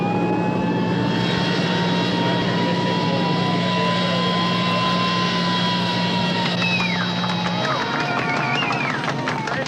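A loud, steady airplane engine roar and whine fills the scene as the aircraft rolls down the runway after landing with no brakes, with faint voices under the noise.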